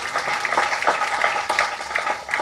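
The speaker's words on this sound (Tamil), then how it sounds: "உங்களை கைதட்டுங்க கைதட்டுங்க கைதட்டுங்க" Audience applause, a steady wash of many hands clapping at moderate loudness, continuous with slight swells and no voices over it.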